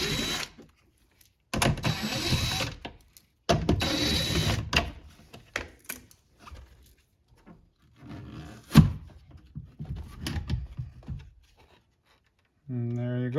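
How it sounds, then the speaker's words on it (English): A power driver whirs in several short bursts while backing out four 10mm screws from a front door speaker on a 2021-or-later Toyota Sienna, separated by quiet gaps and small clicks, with some speech nearby. "remove the 4 10mm head screws"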